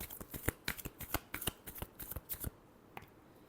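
Tarot cards get shuffled up close in a rapid run of crisp riffling slaps lasting about two and a half seconds, then stop, leaving near silence.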